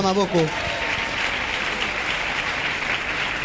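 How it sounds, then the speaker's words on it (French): A church congregation bursts into sustained applause after a brief spoken line, the clapping dense and loud throughout. "Oui, on peut acclamer ce grand Dieu."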